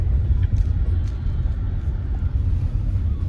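Heavy road traffic rumbles around a stuck car in the evening, a low, continuous engine drone with faint horn-like tones on top, steady and close.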